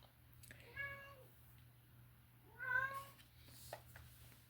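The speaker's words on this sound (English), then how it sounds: "He's standing in front of the water dish meowing." A cat meows twice by a water dish, two drawn-out, clear calls spaced about two seconds apart over a low steady hum.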